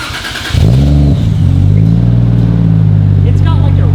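A Toyota Chaser JZX100 with a titanium Tomei exhaust fires up and revs: a loud, close engine burst climbs quickly, then settles into a steady, deep idle drone with a slight rasp.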